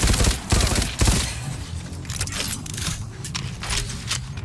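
Submachine gun fire in a video game: rapid, dense bursts of shots rattle almost continuously, loud and close, with no voice over them.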